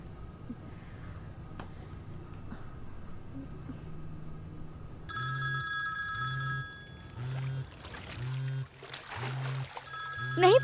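A telephone rings in repeated regular bursts indoors, starting partway through after a quiet low hum, moderately loud, with some clattering movement toward the end.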